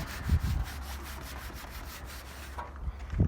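A cloth scrubs paint cleaner over thick, gritty rust on the blue metallic paint of a 1974 Chevrolet Impala, a steady back-and-forth rubbing heard close and fairly quiet with no talking.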